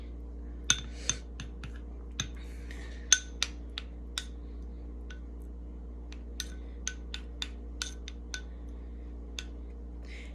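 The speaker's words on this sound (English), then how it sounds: "I'm going to take a spoon and I'm going to mix the yogurt and the honey together" A spoon mixes yogurt and honey in a bowl, giving sparse, sharp clinks against the dish at irregular intervals over a quiet background.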